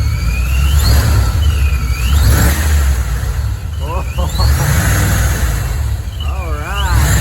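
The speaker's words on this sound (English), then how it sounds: "go ahead and rev it" A Gen 1 Ford Raptor fitted with a Procharger revs loudly and close, its deep engine rumble joined by a rising and falling supercharger whine that sweeps up and down several times, with voices talking underneath.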